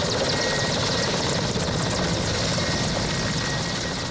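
A military chopper landing on an AMISOM peacekeeping mission in Somalia roars loud and close, its rotor blades thudding rapidly over a constant turbine whine for the whole stretch.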